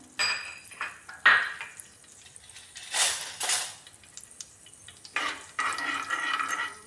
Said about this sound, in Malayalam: നമ്മുടെ എണ്ണ നന്നായി ചൂടായതിന് ശേഷം ഞാൻ അതിലേക്ക് 1/2 ടീസ്പൂൺ അളവിന് കടുകിടുകയാണ്.